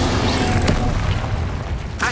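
Incendio fire spell in Hogwarts Legacy: a loud booming burst near the start, a sharp crack, then a sustained roaring blast, with a second burst at the very end.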